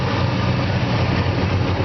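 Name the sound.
1963.5 Ford Galaxie 500XL engine running smoothly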